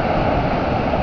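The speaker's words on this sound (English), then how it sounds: "You can hear the waves." Ocean waves on a beach at night make a steady, fairly loud wash, with some wind rumble mixed in and no voices.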